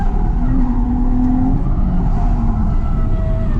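A drift car at a drift event runs at steady, loud engine drone, with rising revs and a long tire squeal partway through, and constant noise for the whole stretch.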